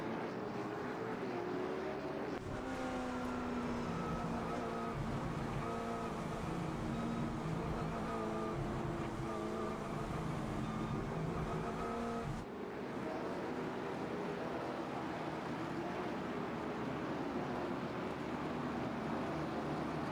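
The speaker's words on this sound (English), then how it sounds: "A lot of cars out here tonight." Race cars circle a big sweeping track at night, their engine drone steady and loud throughout. Several overlapping motors rise and fall in pitch as the cars pass, with a brief shift midway.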